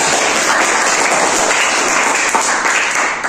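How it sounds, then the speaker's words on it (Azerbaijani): Steady, loud applause from a crowd greets the winner of a math quiz competition, with dense clapping holding evenly throughout and fading only slightly at the end. "Alqışlar."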